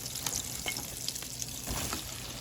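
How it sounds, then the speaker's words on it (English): A fresh batch of mushrooms sautéing in butter and oil in a pan for soup, giving a dense, continuous crackling sizzle heard up close. "Oil, a little bit more butter, and the next load of mushrooms are going in."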